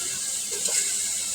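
Onion with garlic, ginger, chilli and cumin pastes sizzles in a pressure cooker, making a steady, close frying hiss with a few faint bubbling pops and no voices.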